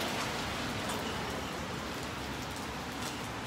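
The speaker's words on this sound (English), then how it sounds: "and it's rainy." Steady rain falls outdoors in a small town, an even, soft hiss of drops that stays constant throughout with no voices.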